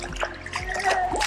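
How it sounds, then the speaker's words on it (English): Footsteps splash and slosh through shallow stream water in red-rock canyon country, a few uneven close splashes with trickling water in between, no clear talking. "Just walk in some water"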